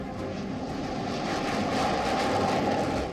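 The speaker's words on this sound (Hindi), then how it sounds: "भारत के शक्तिशाली लड़ाकू विमानों की ये उड़ान देश के दुश्मनों के लिए सबसे बड़ी चुनौती है।" Indian Air Force fighter jets flying overhead make a steady, continuous engine roar that swells slightly louder toward the end, with no voices.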